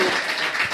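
Dense, loud applause from a comedy club audience before a stand-up set, a continuous wash of clapping with no pauses.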